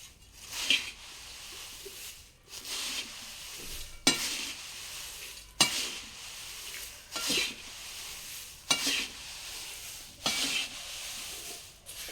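Flattened rice (poha) fries and sizzles in a pan, with repeated stirring strokes sweeping through roughly every one and a half seconds, close and steady, with no voices.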